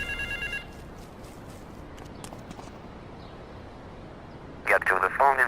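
A payphone rings in Grand Theft Auto III, bright electronic trilling bursts sounding briefly at the start and again near the end, fairly loud, over a low ambient background of street noise.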